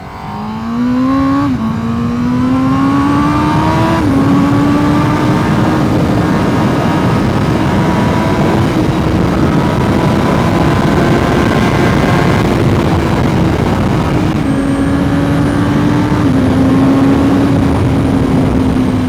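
A 2023 Honda CBR1000RR-R SP Fireblade sportbike roars loudly while being ridden, its engine pitch climbing and dropping through gear shifts under a constant rush of wind, sustained for the whole stretch with no voices.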